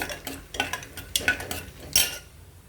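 Peanuts fried in oil inside a pressure cooker, heard as a series of metallic clinks and scrapes from a stirring spoon against the pot, with only a faint sizzle underneath.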